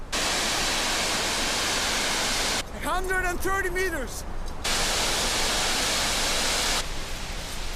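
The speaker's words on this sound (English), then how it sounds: "You hear the waterfall?" Steady roar of a waterfall in Tierra del Fuego fills the clip, loud and broadband, briefly dipping while a person speaks before the rushing water returns.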